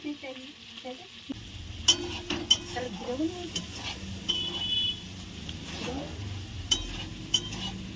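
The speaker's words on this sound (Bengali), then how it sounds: "আমার মা এখন রসিয়ে বসে চিংড়ি মাছ করছে" Prawn curry cooks in a pan at home, with soft sizzling and stirring, scattered clinks of a utensil against the pan, and a few sharper knocks while a voice talks quietly in the background.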